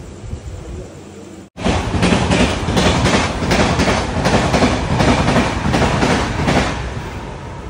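A train races past at high speed and close by, its loud, steady roar carrying rapid rhythmic clickety-clack of wheels over rail joints for several seconds after a brief sudden gap.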